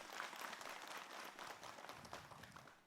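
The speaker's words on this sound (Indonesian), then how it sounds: "Tepuk tangan buat Habib Usman." Studio audience on an Indonesian Islamic television program applauds a guest, Habib Usman, with a short burst of fairly quiet, dense clapping that holds steady for a few seconds.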